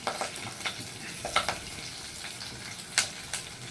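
Mushrooms frying in a pan with a steady low sizzle, broken by occasional sharp scraping stirs and clinks near the end, no voices.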